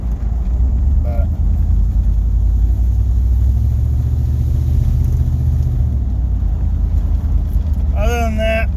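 A GMC Suburban's engine runs in a loud, steady, low rumble that holds close and constant throughout. A brief voice comes in near the end.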